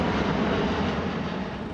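An airplane passing overhead at the Paris Air Show, a loud, steady, broad roar of engines filling the whole stretch with no voices over it.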